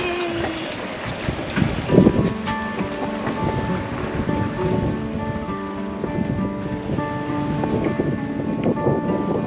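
A sailboat under way in shifting wind on open sea, with steady wind rush buffeting the microphone, water and hull noise, and creaking rigging tones throughout, loud and continuous with no talking.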